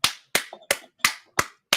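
Hands clap six times at a steady, slightly uneven rhythm, each a sharp, close, crisp slap followed by brief silence, with a faint murmur between two of the claps.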